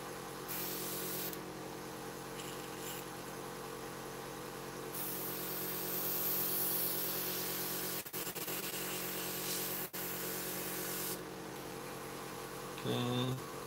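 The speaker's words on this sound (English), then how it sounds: "Let's clean the airbrush in the meantime." A scale modeller's airbrush sprays a steady, close, loud hiss of air and cleaning fluid during cleaning, cutting out briefly around the eighth and tenth seconds, with a short separate burst near the end.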